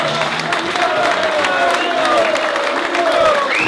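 Applause and cheering from a crowd fill a room for a former heavyweight boxing champion at an evening show in Wellingborough, a dense, steady roar of clapping with whistles and shouts throughout.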